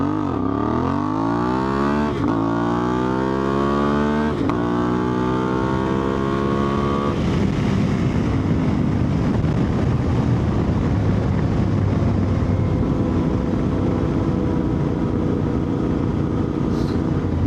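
A CFMOTO 450MT IBEX motorcycle with a 15-tooth front sprocket accelerates hard from a standstill, its engine note climbing and dropping through several quick gear changes before settling into loud, steady wind-blasted cruising.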